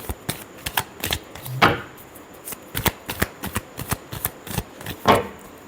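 Tarot cards are shuffled by hand in quick, riffling bursts of crisp papery flicks and taps, close and dry, with a few heavier snaps as the deck is squared.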